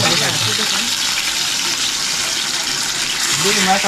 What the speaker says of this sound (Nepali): अब यहाँ माछा चाहिँ फ्राई गर्छु